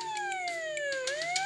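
Ambulance siren in a children's video game, a loud continuous wailing tone that sweeps down and then back up, steady and close with no talk.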